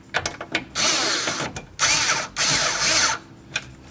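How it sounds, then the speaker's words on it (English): A power driver snugs sway bar bolts, giving several short buzzing bursts of a whirring, ratcheting motor with brief pauses between them, close up and loud. "take your driver again. Now you just want to snug them up."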